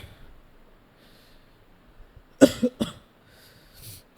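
After a quiet stretch, a person who is ill coughs two or three times in a quick, harsh burst close by, followed by a soft breath.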